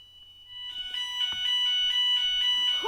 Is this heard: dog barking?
no